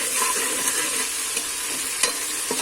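Ginger garlic paste sizzles on high flame in a cooker pot while a utensil stirs it, giving a steady frying crackle broken by a few sharp scraping clicks.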